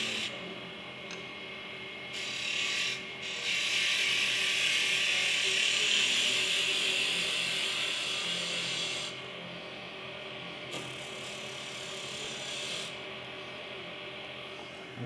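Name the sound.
woodturning on lathe with gouge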